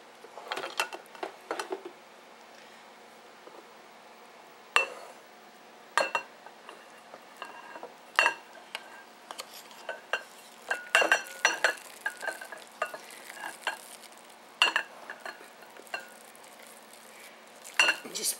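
Mashed potatoes scraped and spooned into a bowl in a home kitchen, giving sparse, close clinks and taps of utensil against bowl at irregular intervals, with faint quiet background and occasional soft voice.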